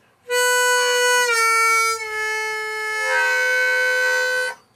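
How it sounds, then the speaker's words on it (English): A harmonica plays hole 4 draw, bends it with a tense, unrelaxed embouchure, then moves to 4 blow, giving one sustained, reedy tone that dips and shifts in pitch before stopping abruptly. "if you go from 4 to 4 bend to 4 blow, and it sounds something like this."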